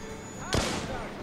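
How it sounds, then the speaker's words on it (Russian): A single sharp explosion in the video game Assassin's Creed: Revelations bursts out suddenly and then fades into a rumbling tail. "Чё там происходит? Чё за взрывы?"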